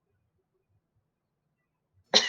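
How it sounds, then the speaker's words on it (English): One sharp person's cough breaks the near silence right at the end, short, close and fairly loud. "I just love how you coughed on that."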